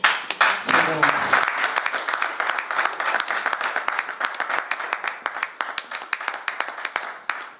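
Audience clapping at a book signing event, a steady crowd applause with dense overlapping claps throughout, briefly mixed with a voice near the start.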